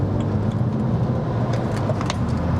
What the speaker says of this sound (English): And now we'll overtake.